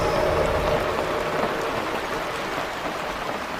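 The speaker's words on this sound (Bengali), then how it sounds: "বৃষ্টি পড়ার শব্দ হচ্ছে" Soft, steady rain patters without a break, a gentle hiss of drops with no voices.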